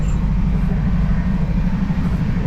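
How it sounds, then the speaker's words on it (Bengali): Steady low rumble of a Rajdhani Express train moving fast, a continuous rolling drone with no pauses, close and fairly loud. "ট্রেন কিন্তু যথেষ্ট স্পিডে চলছে"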